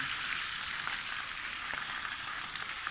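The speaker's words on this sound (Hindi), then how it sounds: "ये देखें कोफ्ते सारे जो हैं ये फ्राई हो गए" Mutton koftas fry in hot oil, giving a steady, even sizzle that crackles alone and close without a break.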